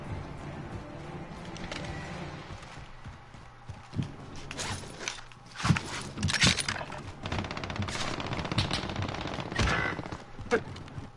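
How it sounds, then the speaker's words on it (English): Gunfire from Call of Duty comes in scattered bursts and single shots at moderate loudness, mixed with mechanical clicks and game noise, no speech. "How many times I gotta shoot that fucker?"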